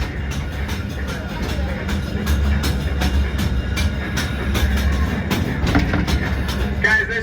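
A theme park train at Silver Dollar City rumbles through a tunnel, its steady low roar and rhythmic wheel clatter filling the space loudly and continuously, with a murmur of passengers underneath.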